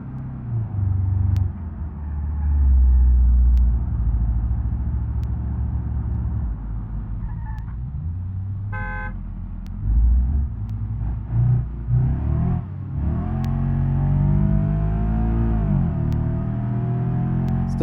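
A car engine in a BeamNG driving game runs with a steady rumble, revving up and dropping as gears shift, pitch sweeping between changes, loud and close with no talk.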